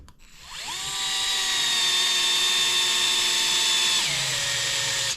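A power drill driving in a screw on an RC car differential whirs up and runs steadily at high speed for several seconds, then its pitch drops as it slows near the end, loud and close.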